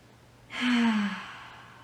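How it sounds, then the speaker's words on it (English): One deep breath during a kids' meditation class: a single long, close exhale that swells suddenly and then fades out gradually, heard alone. "let's just take 3 big breaths here"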